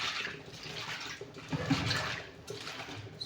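Turkey berries rinsed in a bowl of water, a steady close splashing and sloshing with swirling bursts, no talk.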